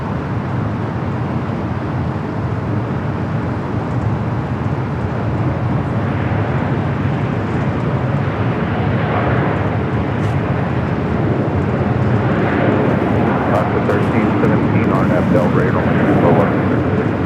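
An airplane roars steadily at Los Angeles LAX airport, a loud, broad engine rumble that holds throughout and builds slightly toward the end. Voices talk over it.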